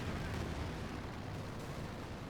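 A Sturmovik airstrike in Company of Heroes 2 rumbles as dense, continuous low-heavy roar of blasts and gunfire, loud and steady throughout with no voices.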